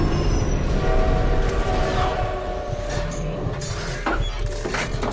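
A train rolls past at night, a loud, close rumble of rail wagons with clattering wheels and squealing and horn-like tones, continuous throughout with no talk.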